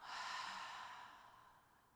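Slow exhale during a Pilates core stretch, a soft airy breath fading steadily over two seconds, close and alone with no talk.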